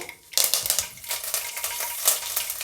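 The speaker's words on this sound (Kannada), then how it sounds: "ಎಣ್ಣೆ ಬಿಸಿಯಾಗಿದೆ ಸಾಸಿವೆ ಹಾಕ್ತಾಯಿದ್ದೀನಿ" Mustard seeds dropped into hot oil in a pan crackle and spit in bright, irregular bursts after a brief quiet start, with a clink of a utensil along the way.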